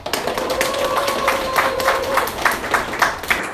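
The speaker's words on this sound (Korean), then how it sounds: "이 자리에 계신 모든 분들께 감사의 박수 부탁드립니다." Applause from the audience at a neighborhood residents' general assembly in Seongsu 1-ga 1-dong, a steady wash of clapping lasting a few seconds, with a brief tonal voice or tone drifting across it early on.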